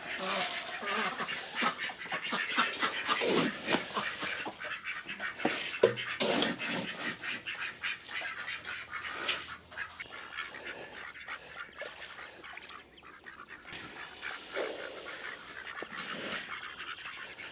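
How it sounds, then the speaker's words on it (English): Ducks quack and honk in busy, uneven bursts close by, with scattered rustling and some voices mixed among the calls. "And here comes the ducks."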